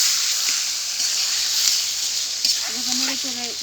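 Broiler chicken pieces hitting a hot pan of onion, bay leaf and whole cumin, giving a steady close sizzle and fry hiss throughout, with a faint voice murmuring near the end.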